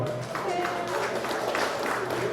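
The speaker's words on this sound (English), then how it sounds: "Round of applause for Jeff." Applause from an audience at an FPL induction ceremony, a steady, dense patter of clapping that fills the short span at moderate loudness, with voices mixed in.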